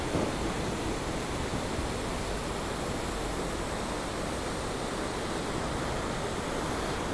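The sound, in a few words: huge waterfall, water falling from high above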